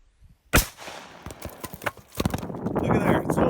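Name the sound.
458 SOCOM AR15 gunshot, hard cast bullet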